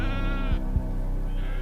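Sheep bleat steadily in a loud, harmonic-rich call across a Colorado alpine plateau grazing range, the cry held for over half a second before easing off, with a second bleat rising near the end over a constant background hum.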